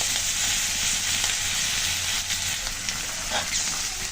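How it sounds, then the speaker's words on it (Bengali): Prawns sizzle steadily in a hot pan as they fry to a reddish colour, a dense continuous hiss that holds at an even level throughout, with no voices over it. "চিংড়িগুলো কিন্তু খুব সুন্দর করে ভেজে নিলাম"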